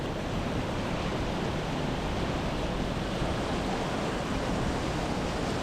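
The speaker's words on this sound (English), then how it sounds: "So that's how heavy it is raining." Heavy rain pours outside a bus at Nairobi airport in Kenya, a dense, even hiss of steady roaring noise that never lets up, with no voices.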